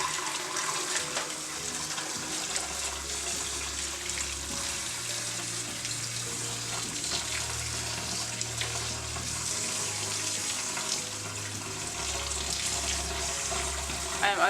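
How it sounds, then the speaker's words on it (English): Cold water runs from a tap in a steady, rushing stream, close by and continuous, with a low hum underneath, in a kitchen while rinsing rice. "I'm just going to run some cold water."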